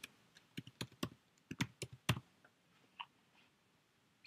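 Quick clusters of crisp key presses on a computer keyboard, close and clear, in short bursts with brief pauses, in a quiet room.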